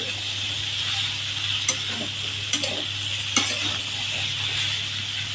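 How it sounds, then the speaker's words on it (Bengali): Sweet pumpkin cubes sizzle and get stirred with salt in a pan for a vegetarian Bengali ghonto, a steady close frying hiss broken by a few sharp scrapes of the spatula, with no talk. "এইভাবে কষিয়ে কষিয়ে মিষ্টি কুমড়ো রান্না করতে হবে।"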